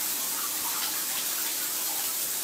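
Water from a running shower pours steadily in a continuous broadband hiss, close and even for the whole stretch with no break.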